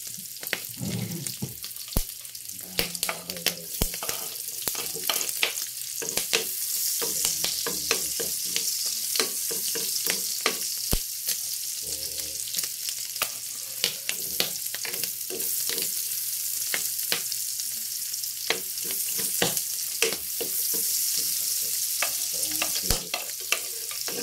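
Garlic frying in a pan for a pansit bato noodle dish, a steady bright sizzle with frequent clicks and scrapes of stirring running throughout.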